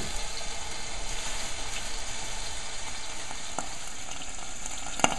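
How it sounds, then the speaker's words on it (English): Veal osso buco shanks frying in hot oil in a pan, a steady close sizzle and crackle running the whole time with a single sharp clink near the end. "But you're gonna let these fry up"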